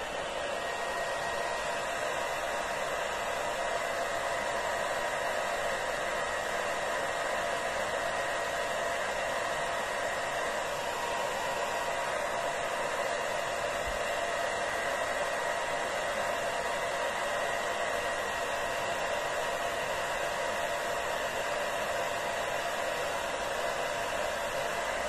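A hair dryer blows continuously at close range over painted pieces, a steady, even airy whoosh with motor whine and no talking for the whole stretch.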